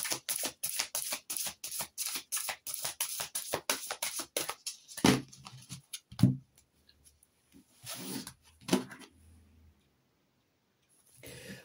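A deck of tarot cards being cut and shuffled, with a fast, even riffle of crisp flicks for several seconds, then a few louder slaps and brushing handling sounds, close up, with no talk.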